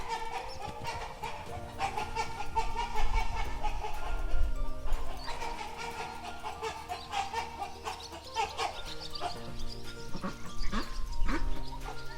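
Hens in a henhouse cluck and squawk in a busy, agitated squabble as the others attack one hen, with overlapping calls and scuffling noise throughout.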